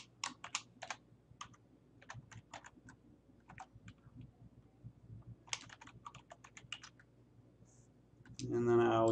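Typing on a computer keyboard to enter a property listing title: quick clusters of light clicks with short pauses between them, and then a voice speaking at the end.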